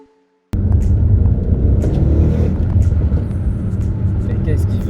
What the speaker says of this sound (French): On essaie de prendre une petite accélération pour avoir le retour. Parce que la ligne d'échappement fait.